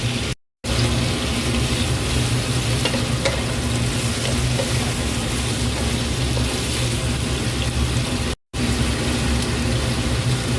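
Beef brisket fries in a pan for a Chinese-style recipe, a loud, continuous sizzle with stirring scrapes, briefly cut to silence twice, with no voices.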